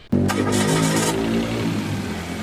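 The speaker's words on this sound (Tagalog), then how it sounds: "Start ko na itong makina." Mitsubishi Mirage G4 engine starting up with a short crank and quick catch, then flaring briefly and easing into a steady idle, close and moderately loud.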